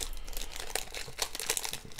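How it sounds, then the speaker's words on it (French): Crinkling foil wrapper of a Yu-Gi-Oh! Ghost of the Past booster pack being carefully torn open by hand, a steady run of close crackles and crunches with a few sharper rips over two seconds. "Et c'est parti pour l'ouverture du premier pack, les gars."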